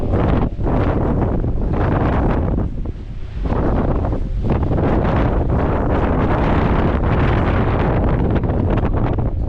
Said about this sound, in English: The wind is blowing so hard it's singing.